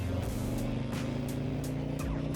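A 2024 Harley-Davidson Road Glide Limited with a Milwaukee-Eight engine pulling hard up a highway on-ramp, a continuous loud low rumble with steady engine drone and periodic wind or mechanical bursts, no voices.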